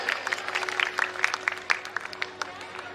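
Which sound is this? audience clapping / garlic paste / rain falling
audience clapping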